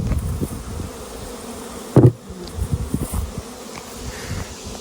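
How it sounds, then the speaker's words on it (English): Honey bees buzzing around an open hive during August robbing season in a Tennessee yard while honey is pulled, a steady low insect drone with scattered closer passes and a brief louder bump midway. "Bees are being pretty robby."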